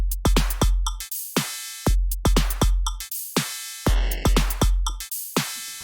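A punchy drum pattern made purely by synthesis in the Rob Papen Punch-2 plugin, with booming electronic kicks, snappy hits and tonal zaps in a steady groove, loud and without voices.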